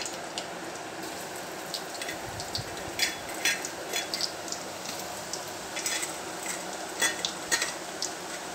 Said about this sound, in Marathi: आता ह्याच्यामध्ये टाकते खोबरं.